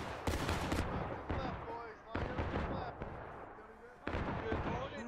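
Musket gunfire in a War of Rights game battle, several loud ragged volleys of shots in bursts, separated by short lulls, with a voice talking between and under the firing.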